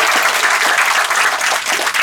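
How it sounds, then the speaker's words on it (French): A theatre audience applauds actors after a Bambara-language workshop performance, dense steady clapping filling the whole stretch at close, loud level with no pauses. "Merci de les applaudir encore une fois"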